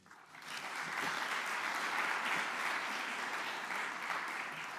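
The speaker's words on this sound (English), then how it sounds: "A round of applause." Applause from a conference audience at a closing plenary swells up quickly and holds steady, a broad wash of many hands heard from a distance.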